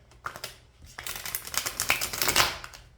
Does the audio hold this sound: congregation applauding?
no